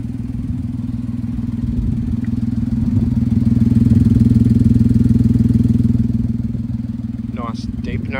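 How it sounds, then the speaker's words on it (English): A 2020 Daihatsu Hijet Extra kei truck, lowered on slim tires, idles close by with a deep, steady exhaust burble that swells slightly mid-way before settling, with a brief clatter near the end. "Nice deep note from the exhaust."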